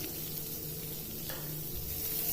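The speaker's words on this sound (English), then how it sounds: "I'm going to quickly add in chopped garlic." Chopped garlic sizzles in melted butter over a low gas flame, a steady broadband hiss with a faint hum beneath and a slight change partway through, close and continuous with no talking.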